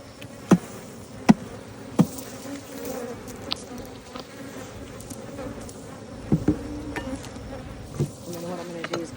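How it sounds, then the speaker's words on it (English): Honey bees swarming around an open hive in May, a continuous close buzzing drone with occasional sharper knocks and bumps of handling the frames, no talk. "because there's so many bees in it,"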